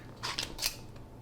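Scissors trim quilt fabric with two or three quick, crisp snips, faint and close, in an otherwise quiet room.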